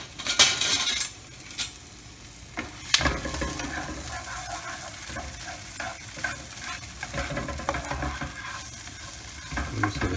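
Onions and anchovies sweat in a pan for salsa puttanesca, with a bright clatter of a utensil at the start, then a soft steady sizzle under repeated stirring scrapes and light clinks, no talking.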